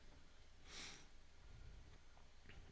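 Brief sniffle and throat clearing from a person with a lingering cold, one short breathy burst near the start and faint small noises after, fairly quiet against low background hum.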